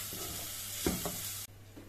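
Coarsely powdered jeera and coriander sauteed in a pan, a soft steady sizzle with a couple of stirring scrapes near the middle and a sudden drop in the hiss afterward, quiet and close.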